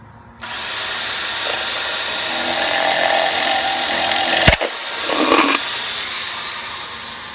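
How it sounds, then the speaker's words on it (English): A power drill whirs steadily at close range for several seconds while boring a hole in a plastic bowl, briefly stops with a sharp click, then spins up again more unevenly. "I'm going to drill a hole in this plastic bowl"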